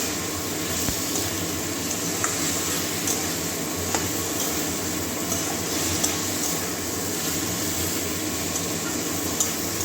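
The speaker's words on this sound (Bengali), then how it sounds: "মশলাটা আমরা ভালো করে কষিয়ে দিচ্ছি" Spice paste with potato and pumpkin cooks in a pan, a continuous low sizzle with soft scraping and occasional spoon taps as it is stirred, close and steady with no talking.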